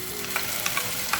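Masala paste with cumin frying in oil in a pan gives a steady, close sizzling hiss, broken by a few soft scraping clicks from stirring.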